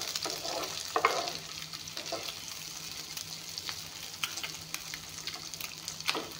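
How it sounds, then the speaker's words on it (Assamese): Eggs frying in a pan for a ghugni recipe, a soft, steady sizzle with occasional stirring scrapes and clicks, close but fairly quiet, no voices. "এয়া কণীখিনি অলপমান ভাজি ল'ম।"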